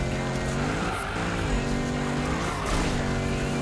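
Car drifting in Need for Speed 2015, engine revving hard with continuous loud tire squeal and skidding, pitch rising and falling as the slide holds through the corner.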